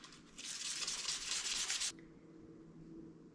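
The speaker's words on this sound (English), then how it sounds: "I'll just lightly sand all of these knobs." Cabinet knobs are lightly sanded by hand with scrunched 100 grit sandpaper, making a close, steady scratchy rubbing that lasts about a second and a half, then stops abruptly, leaving quiet room tone.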